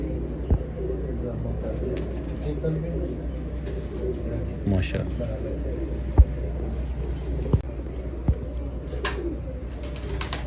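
Pure-bred racing pigeons cooing softly at a pigeon-flying competition, low murmuring coos under steady background hum and a few sharp knocks, with someone speaking briefly.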